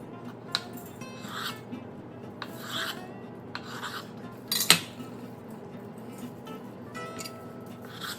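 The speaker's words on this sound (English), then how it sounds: "with our mango here, you wanna do a thin slice" A very sharp knife cuts thin slices from a mango, making soft, quiet scraping strokes and light taps on the board at irregular intervals, with one louder knock midway.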